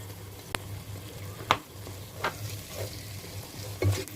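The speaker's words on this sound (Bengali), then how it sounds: "আর একটু মশলাটা নেড়েচেড়ে মিশিয়ে নিচ্ছি।" Spice paste with onion paste and salt being stirred and fried in a pan for beef rezala, with steady low sizzle and sharp spoon scrapes and knocks against the pan every second or so, close and moderately loud.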